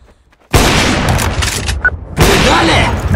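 Game gunfire from Counter-Strike: Source, a dense loud burst of shots and booms after a brief silent start, pausing briefly before a second heavy burst.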